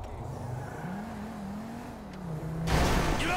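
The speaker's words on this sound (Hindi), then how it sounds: "ट्रेवर ब्रो, चल गाड़ी में बैठ जा जल्दी से।" Engine of a car in the video game GTA V, a steady mid-pitched drone that shifts slightly in pitch, then grows louder with a burst of revving and tire noise near the end.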